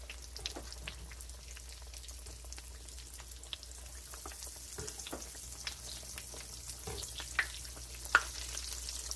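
Squash slices fry quietly in a cast iron pan, a soft steady sizzle with scattered small pops and crackles, fairly faint and close, no voices.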